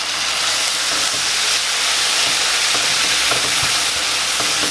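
Beef broth sizzles loudly in a pan of seasoned taco meat for a baked-potato topping, a steady broadband hiss with scraping stir strokes throughout and no voices.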